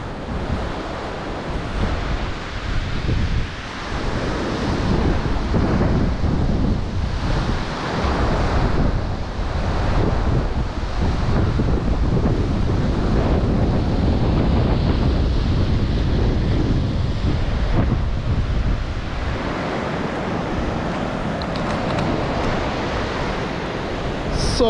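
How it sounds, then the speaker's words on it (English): Wind and breaking surf on Treasure Beach, Jamaica, roar in a loud, steady, close rush for the whole stretch, with heavy wind buffeting on the microphone and no talking. "I hear a lot of windy noise"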